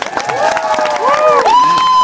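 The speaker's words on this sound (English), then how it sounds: "All righty, let's give it a round of applause." A crowd at an axe throwing competition during Timberfest 2023 cheers and claps, with excited voices shouting over a busy, lively background.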